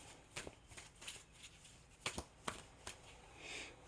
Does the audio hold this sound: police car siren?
no